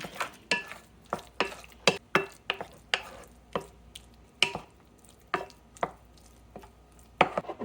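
A spoon mixing Old Bay seasoning and dry mustard into a crab mixture in a bowl, irregular close clinks and scrapes with quiet gaps between them, heard without talk.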